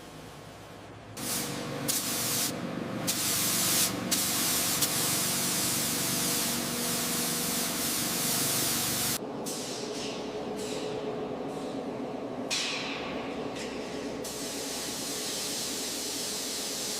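Steady spraying hiss as the top panels of a giant skeleton-style machine are spray coated during a heavy restoration, running continuously with brief breaks and changes in intensity, close and fairly loud with no talking.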